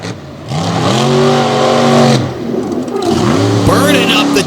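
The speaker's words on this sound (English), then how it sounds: "Burning up the tires right there." A Toxic 2.0 truck at a Jennerstown all-star race spins and burns up its tires, its engine revving loud and close in long rising and falling pulls while a commentator talks over it.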